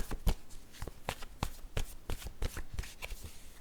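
Cards from an oracle deck being handled and drawn, a soft, close, papery riffling and flicking with irregular light taps, with no talking.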